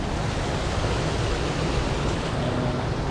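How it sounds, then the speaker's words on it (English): A stream in Ubud, Bali, rushes steadily and loudly, a constant broadband roar of running water with no voices. "with the kind of the sound of the running water there, you don't even hear the traffic"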